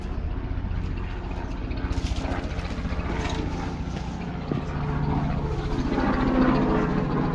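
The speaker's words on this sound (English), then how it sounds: "helicopters come for me" Steady mechanical rumble with rhythmic chopping pulses of a helicopter passing overhead on a walk near Grenoside, Sheffield, swelling slightly louder toward the end.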